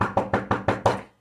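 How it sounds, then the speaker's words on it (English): A door is knocked on six times in a steady, even rhythm, each rap crisp and close with no other sound around it. "Knocked on the door again"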